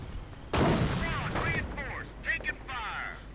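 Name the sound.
gunfire in a WWII strategy video game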